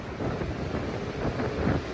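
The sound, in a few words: strong wind on a coastal bluff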